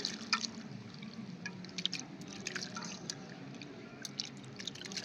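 Water sloshes and drips as food is washed in a bowl by hand, with soft continuous swishing and scattered small drips and splashes close by.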